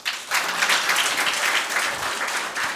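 An indoor audience claps together in a dense, sustained burst of applause, loud and close, fading briefly before rising again.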